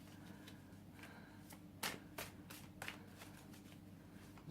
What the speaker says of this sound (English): Really hard cards to shuffle